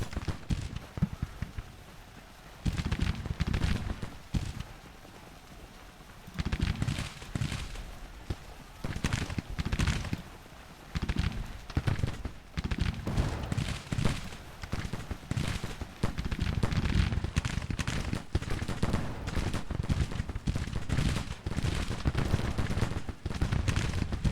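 Artillery and rifle fire in a Civil War strategy game: repeated bursts of gunfire and booming cannon shots in irregular clusters, sustained and moderately loud throughout.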